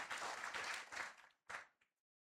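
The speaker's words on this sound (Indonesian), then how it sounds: "Boleh beri tepuk tangannya semuanya." Applause from the audience at a dedication ceremony for the Mani House building in Medan, heard faintly in a few bursts that stop, start again briefly, then trail off into silence.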